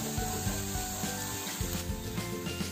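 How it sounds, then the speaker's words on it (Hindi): Chopped garlic sautés in a pan for a Rajasthani spinach gatte gravy, stirred constantly: a steady close sizzle with repeated rhythmic scraping strokes of a spoon against the pan, about five per second, and no voices. "जब तक लहसुन का कच्चापन ना निकले तब तक इसे सेकें, लगातार चलाते हुए सेकें"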